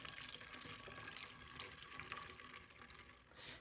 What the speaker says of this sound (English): now I'm going to carefully pour the water and vinegar into my spray bottle